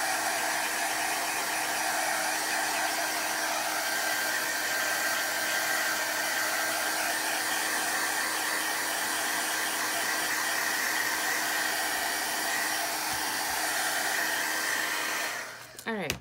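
Hair dryer blowing on watercolor journal pages, a steady loud close whir running unbroken until it clicks off at the end, with no talk.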